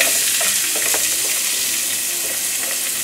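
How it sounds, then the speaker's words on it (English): Onions and garlic sizzle in olive oil in a pan over medium heat, a steady loud crackling fry with light stirring scrapes, no voices. "you wanna put the onions and garlic on about medium heat, just so it gets soft enough"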